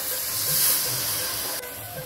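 Water poured into a hot pan of fried cumin paste, green chilli paste and prawn gives a broad, steady hiss that drops off sharply near the end of the brief clip.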